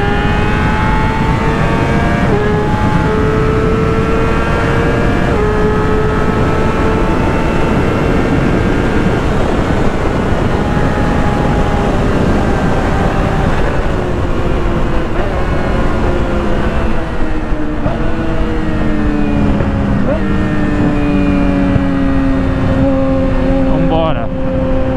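A Yamaha R6 sport motorcycle engine drones steadily throughout while riding, its pitch rising and falling through gear changes, loud and close under heavy wind rush with no talking.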